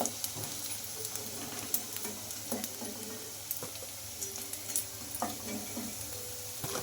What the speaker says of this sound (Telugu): ఇంకా అన్నీ ఇలానే ఫ్రై చేసుకోవాలి